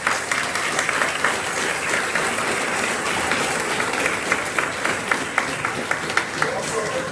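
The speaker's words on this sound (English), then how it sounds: "give all your teachers up until high school a round of applause" Graduation audience applauding teachers at a 12th grade ceremony, a dense sustained wash of many hands clapping with scattered louder claps throughout.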